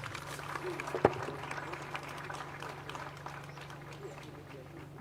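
Audience applause for a minister at a college's 93rd anniversary speech day, a steady wash of clapping with one sharp loud clap near the start, set against a low constant hum and some talk.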